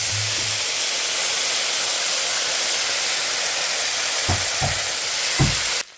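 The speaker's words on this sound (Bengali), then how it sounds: "এখন লবণ দেওয়া শেষ হলে আমি এগুলোকে নেড়ে চেড়ে এর মধ্যে আমি ভেজে রাখা চিকেনগুলো দিয়ে দিচ্ছি" Pieces of fried chicken go into a pan of fried onions with salt, giving a loud, continuous sizzling hiss, followed by a few soft thumps of stirring near the end.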